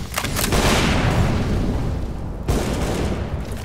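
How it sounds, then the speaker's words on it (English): A grenade explodes in the shooter game CS:GO with a loud, close boom that rumbles and fades, followed by a second sharp blast a couple of seconds later. "Grenade out"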